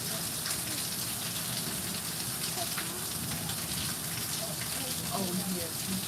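Steady rain falls on a rainy day, a dense, even hiss of drops pattering on surfaces, close and continuous, with faint voice-like sounds underneath.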